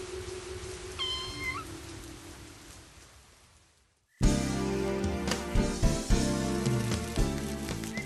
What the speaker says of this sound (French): Un petit chat tout fragile sous la pluie.